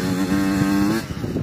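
A dirt bike engine revs hard and close as the rider pops a wheelie, a loud steady buzzing drone that drops off abruptly after about a second, leaving rougher idle-like rumbling.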